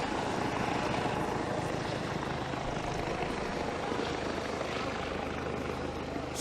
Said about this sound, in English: Sorry, I couldn't hear you, the helicopter.